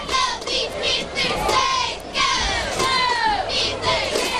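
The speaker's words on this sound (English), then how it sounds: "And the crowd is still here." Football game crowd cheering and shouting continuously at a high school stadium, loud and sustained with overlapping voices, youthful yells and rising whoops across the whole stretch.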